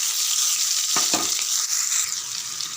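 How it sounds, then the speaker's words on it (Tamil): Finely chopped onions hitting hot oil with clove, cinnamon and bay leaf for chicken gravy, a loud continuous close sizzle with a couple of sharp spoon scrapes early on. "3 வெங்காயம் பொடிசாக கட் பண்ணியிருக்கேன், அப்படியே சேர்த்துருங்க."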